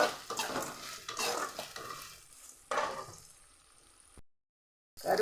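Chopped chillies drop into urad dal frying in hot oil for rava upma, setting off loud sizzling bursts and scraping stirs, then the sound fades and cuts to silence.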